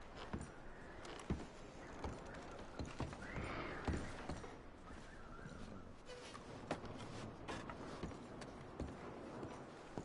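Horses in the video game Red Dead Redemption 2, with hooves clip-clopping in an irregular rhythm and an occasional neigh, heard moderately close against a quiet outdoor background with no talk.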